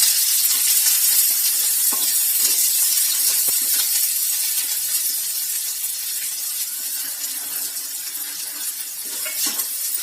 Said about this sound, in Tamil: நல்லா ஆயிலில் முங்கி ஃப்ரை ஆகுற மாதிரி இருக்கணும் வெங்காயம்